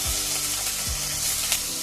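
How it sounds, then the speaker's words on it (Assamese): Paneer pieces frying in hot oil in a pan for a village-style paneer and soya chunk curry, a loud, steady close sizzle with crackling throughout and a brief stirring scrape, no talking. "মই এতিয়া পনীৰখিনি অলপ ভাজি লওঁ।"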